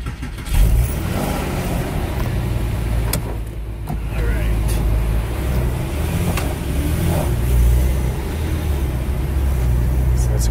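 A cold car engine turns over and settles into a continuous low rumbling idle, close by, with a few faint clicks and rattles.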